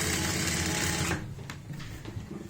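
A sewing machine runs in a continuous close, loud whir while stitching a boat-neck kurti neckline, then stops about halfway through, leaving a few faint handling clicks.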